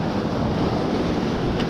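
Rough sea surf churning against a Mediterranean shore where bream are being fished with lures, a steady loud wash of breaking waves with wind buffeting the microphone throughout.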